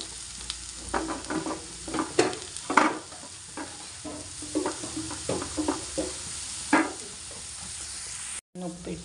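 Chopped papaya and green chilli being stirred in a pan for Kerala thoran, the spatula scraping in irregular close bursts over a steady sizzle, with faint talk in the background.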